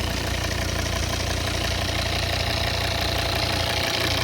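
The 2.4-litre diesel engine of a 2014 Volvo XC90 idles steadily up close, a constant rumbling drone with no change in pace throughout.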